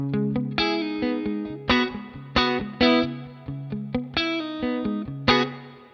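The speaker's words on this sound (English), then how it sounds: "Oh, you can really hear that spring reverb." Clean electric guitar through the Neural DSP Archetype: John Mayer amp plugin plays a rhythmic pattern of plucked notes and chords, each ringing out with a springy reverb tail.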